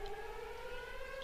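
A steady wailing siren from the video game Pokemon Uranium, a sustained tonal alarm holding level and fairly faint throughout, alone without talk.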